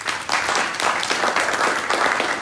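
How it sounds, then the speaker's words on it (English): An audience applauds a speaker at a small business pitch event, a steady burst of dense clapping that starts abruptly and holds at full strength throughout. "round of applause for Lamonte"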